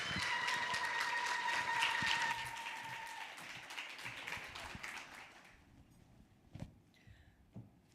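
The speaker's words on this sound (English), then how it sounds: "please welcome on stage with a warm round of applause, ladies and gentlemen, Miss Patty Olivier" Audience applause at a women's summit event in Swakopmund: sustained clapping from a crowd for about five seconds, fading out into quieter room noise with a few scattered taps and claps.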